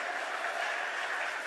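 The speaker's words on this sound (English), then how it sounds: "please give them a round of applause" A crowd applauds steadily at a formal Emancipation Day breakfast hosted by the mayor in the District of Columbia, a dense, even wash of clapping that holds without a break and with no voices over it.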